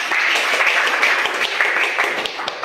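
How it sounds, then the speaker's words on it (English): A classroom full of students claps together in steady, dense applause for a couple of seconds, loud and close. "Give applause to Fauzi."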